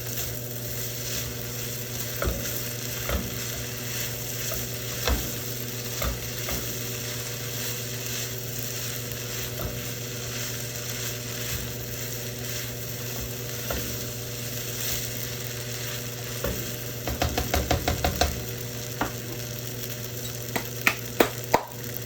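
A big batch of fried rice sizzles steadily in a pan under a constant hiss, with clicks and scrapes from stirring and a quick rattling burst of tool-on-pan strokes late on.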